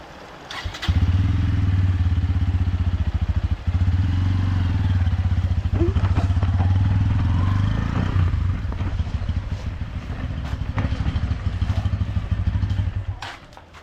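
A motorcycle engine idles close by with a steady low throb and rattle, running continuously before fading slightly near the end.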